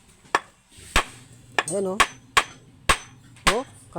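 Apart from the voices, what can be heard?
hammer striking metal to test its strength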